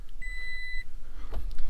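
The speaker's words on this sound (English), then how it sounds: "We turn on the ignition, you get tons of annoying beeping" Warning chime from the dashboard of a 2023 Toyota Tacoma with the ignition on and engine off: one clear, steady electronic beep tone held for about half a second, followed by faint cabin rustling.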